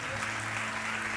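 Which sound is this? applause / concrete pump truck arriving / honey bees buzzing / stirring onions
applause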